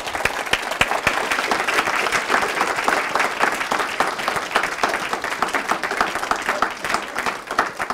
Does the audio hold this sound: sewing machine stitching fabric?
no